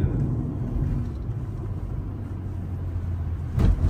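A car engine hums in a steady, low rumble during a test drive on an open road, moderately loud, with a brief louder burst near the end and no talk.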